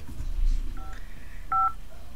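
Cell phone dialing tones in the Henry Stickmin video game: two short electronic keypad beeps, the second louder, over faint low background noise.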